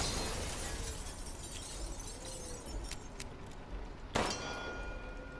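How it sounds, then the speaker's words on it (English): Bell being rung in the Resident Evil Village video game: one sharp metallic clang near the end, ringing on briefly over a dense background hiss, with a few faint knocks before it. "There's a bell."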